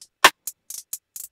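A rim shot drum sample from a hard trap beat hits once sharply, followed by lighter, bright hi-hat-like ticks in a quick rhythm, dry and close with no voices.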